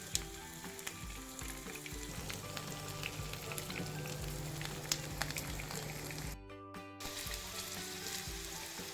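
Cauliflower florets deep-frying in a pan of oil for Gobi Manchurian, a steady dense sizzle and crackle throughout, close and even, with a brief dip near the end as the pieces are stirred or shifted.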